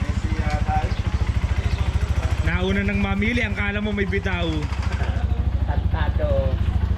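Enduro motorcycle engine idling and running nearby with a steady low rhythmic thrum, while people talk loudly over it.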